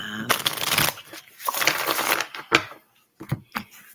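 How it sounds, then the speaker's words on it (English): A deck of oracle cards is shuffled up close in quick, papery bursts of riffling and flicking, first in longer runs and then in short separate snaps, with no talk. "I'm going to give these cards a little quick shuffle through before I stick them up"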